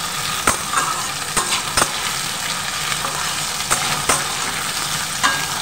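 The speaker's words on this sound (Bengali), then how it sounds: "আমি সবসময় আলুটাকে একটু ভেজে নিই, হালকা করে ভেজে নিই একটু।" Sliced potato fries in a pan with a steady sizzle while being stirred. Sharp scraping clicks from the utensil come every second or so, and no voices are heard.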